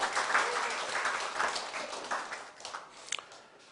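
A church congregation claps for its choir during a Sunday morning worship service, a dense, steady wash of applause from many hands that fills the room, then thins and tapers off near the end.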